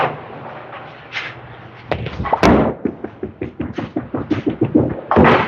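A bowling ball rolls down the lane with a low rumble and then strikes the pins in a loud crash, followed by a quick series of clattering knocks as the pins scatter.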